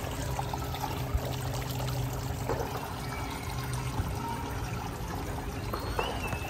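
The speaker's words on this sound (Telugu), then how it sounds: "భలే ఉంది కదా నీళ్ళు జలపాతం సౌండ్" Water from a small waterfall at the Sri Shiva Vishnu temple in Melbourne trickles and pours in a steady, moderately close rush that holds an even level throughout, with no talking.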